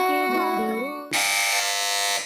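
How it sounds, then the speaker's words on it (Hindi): During a quiz contest, a buzzer cuts in abruptly and loudly over a wavering tone, then holds a harsh, steady electronic buzz for over a second. "इस बार भी सबसे पहले बज़र बजा ली है टीम ए ने"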